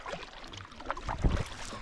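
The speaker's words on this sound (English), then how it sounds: "I'm out paddling." A canoe paddle dips and pulls through calm water on a solo trip in Point Grondine Park, giving soft, close splashes and drips with one fuller stroke near the end, quiet and without talk.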